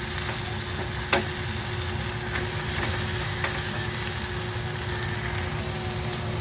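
Bitter gourd (ampalaya) sautés with egg, onion and garlic in a pan, giving a loud, steady sizzle and frying crackle with a few scraping stirs of a utensil and no talk.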